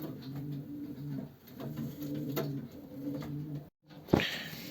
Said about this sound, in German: als nächstes wieder eine Taube von Marco Hoffmann